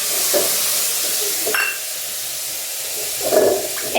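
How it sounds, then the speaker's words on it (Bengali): Cumin, turmeric and coriander paste frying in oil with onion, tomato, ginger and garlic, a steady close sizzle with brief stirring scrapes and clinks of a utensil in the pan. "পেঁয়াজ টমেটো আদা রসুন দিয়ে একটু তেলে দিয়ে আর জিরে হলুদ আর ধনের পেস্টটা আমি দিয়ে দিচ্ছি"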